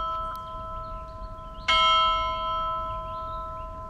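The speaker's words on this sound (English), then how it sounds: "we caught the bell on the clock tower on the hill here" Clock tower bell on Danov Hill in Plovdiv, Bulgaria, sounding once with a sudden bright strike and a long ringing decay, heard at moderate distance over quiet outdoor ambience.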